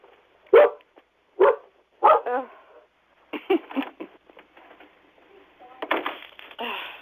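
A dog barks several times in a radio studio, sharp close barks at first, then a run of quicker, busier yelps and whines, loud against a quiet room.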